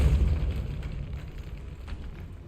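A Depulso spell cast in Hogwarts Legacy lets out a loud, low booming blast that hits at once and fades into a rumbling decay, heard alone.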